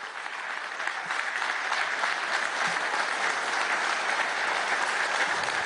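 Warm audience applause welcoming Maite Mola at a São Paulo Forum meeting with Maduro, a sustained, even roar of many hands clapping at constant loudness.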